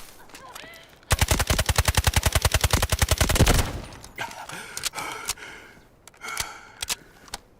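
Automatic gunfire in the Delta Force video game, a rapid burst of about two dozen evenly spaced shots lasting over two seconds, followed by scattered single shots and clatter.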